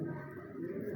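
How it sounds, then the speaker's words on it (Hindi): Soft, low cooing of a Kalu Baloch breed pigeon, a brief steady murmur close by with no talking. "और ये कालू बलोच कबूतर है"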